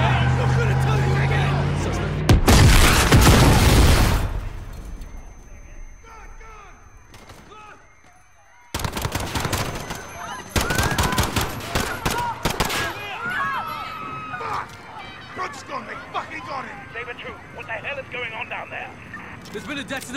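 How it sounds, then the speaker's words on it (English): Gunfire and a detonation erupt during a police shootout at Piccadilly Circus in Call of Duty Modern Warfare: loud sharp shots and a large blast, followed by scattered bursts, with voices heard amid the chaos. "Detonation at Piccadilly Circus. Shots fired."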